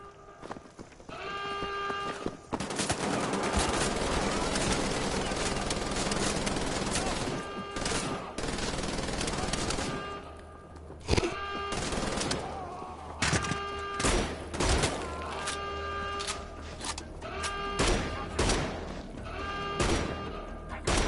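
Gunfire from the video game Wolfenstein The Old Blood, heavy sustained automatic bursts in the first ten seconds, then scattered sharp single shots and short volleys with game sound effects in between.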